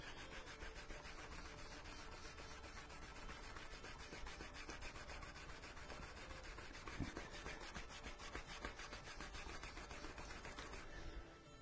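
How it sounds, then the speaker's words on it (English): Continuous rhythmic rubbing, a fast back-and-forth hand buffing of a cloth or pad on a hard surface of a handmade briefcase, steady and close for the whole stretch. "Now I'm buffing in both directions"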